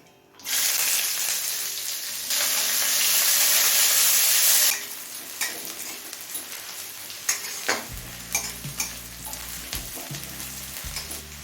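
A large chopped onion drops into hot oil with bay leaf and cumin for a broccoli paneer curry, bursting into a loud, close sizzle that settles into softer frying with scattered stirring clinks and a low hum near the end.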